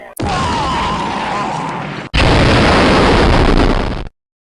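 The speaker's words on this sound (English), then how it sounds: "Let's fire our lasers to break out of jail." Loud, harsh sustained laser blasts firing to break out of jail, two long roaring bursts back to back before cutting to silence.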